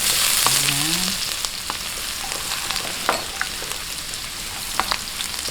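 Garlic frying in a pan for pork ribs pinatisan, a steady close hiss and sizzle with light stirring clinks scattered through.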